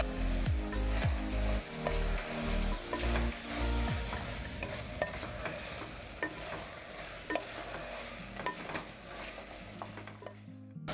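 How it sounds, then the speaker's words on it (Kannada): Cauliflower frying in a pan with ginger garlic paste and salt, stirred steadily with a spatula: continuous close sizzling under repeated scraping and clinks of utensil against metal, with no talking. "ಉಪ್ಪು ಬಿಸಿಲು ಕಳ್ಕೊಂಡಿರೋಂಥ ಹೂಕೋಸ್ ಹಾಕ್ತಾ ಇದ್ದೀನಿ. ಚೆನ್ನಾಗಿ ಮಿಕ್ಸ್ ಮಾಡ್ಕೊಳ್ಳೋಣ."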